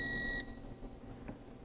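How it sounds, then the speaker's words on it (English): A torque measuring device beeps while a tool holder is tightened, a steady high tone that stops abruptly after a short moment and leaves quiet background with a faint tick. "as I tighten, I'll get three solid beeps"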